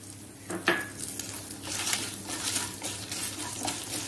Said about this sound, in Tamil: சிம்ல வச்சு நல்லா தீயாமல் வறுத்துக்கோங்க